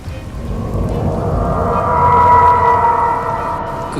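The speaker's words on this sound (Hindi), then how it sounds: "तभी जोर से बिजली कड़की" Thunder with rain as a sound effect: a loud, sustained rolling rumble swells and holds over steady rain, with no voices.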